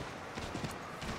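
Horse hooves from the Assassin's Creed III video game thud in a quick, soft rhythm, faint and brief against a muffled background.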